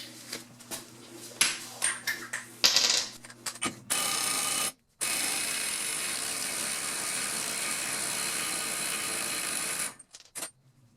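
Ratcheting wrench clicks in quick bursts as it turns an axle nut on a car during a 1.8T engine swap, with the axle held still; close mechanical clicking first, then a steady hiss-like scraping with a short gap.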